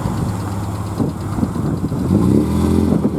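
A Ford cabriolet fitted with front spotlights idles and blips its engine at a Ford RS enthusiasts' day, a rough, throaty rumble that swells into a louder rev near the end.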